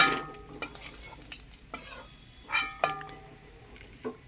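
Whole garam masala, cardamom, cinnamon and cloves go into hot oil in a pan, with a few sharp crackles and spoon-on-pan scrapes over a soft sizzle, close and intermittent.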